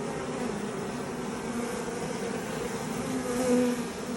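Dense, steady buzzing from a mass of honey bees during a hive inspection, a continuous droning hum that swells slightly toward the end.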